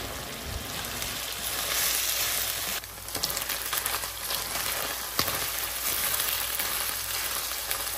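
Chicken pieces frying in a pan for teriyaki, a dense, steady sizzle with occasional stirring scrapes and clatter, close and continuous with no talk.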